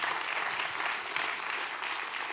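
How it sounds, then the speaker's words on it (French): Conference audience clapping at a critical-care training session, a continuous, moderately soft round of applause from a room full of people lasting a couple of seconds. "on peut l'applaudir."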